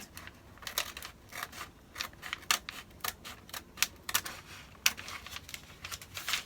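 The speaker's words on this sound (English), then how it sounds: "we're gonna fold this like this. Fold that like that." Crisp paper rustles and creases as a paper pattern piece for a bodice front is folded, a quick run of close, irregular crackles and taps with no talking.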